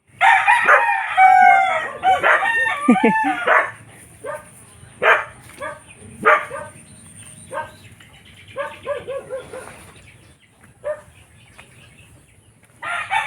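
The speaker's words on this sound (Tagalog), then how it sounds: "Kumakahol si Tanggol" Dog barking outdoors in sharp separate bursts, mixed with a rooster crowing and chickens clucking nearby, loud at first and then thinning to sporadic calls.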